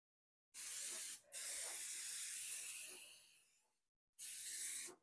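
Two bursts of cooking spray hiss close by onto phyllo dough: a long spray with a brief break that fades out, then a second shorter spray after a pause.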